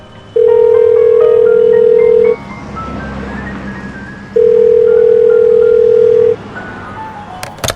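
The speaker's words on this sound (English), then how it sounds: "Ringing the police department." A telephone call to a police department rings out: two long, loud, steady ringback tones with a pause between them over faint background music.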